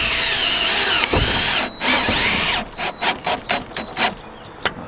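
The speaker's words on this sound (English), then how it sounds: "But we'll put the tech screws in as well, just to be on the safe side." A power drill drives tech screws into a camper roof during a budget skylight and solar build, whirring loudly and steadily for a couple of seconds, then breaking into short repeated bursts as the screw seats.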